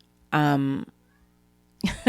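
A house cat meows twice, a clear drawn-out meow followed by a shorter one after a pause, fairly close in a quiet room.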